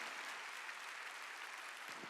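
Applause from a church congregation during a Sunday worship service fills the space steadily, a dense wash of many hands clapping at moderate distance with no voices standing out.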